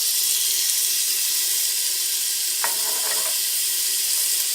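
Ginger and garlic dropped into a pot of browned onion, giving a steady loud sizzle throughout, with a brief clink of a utensil partway through.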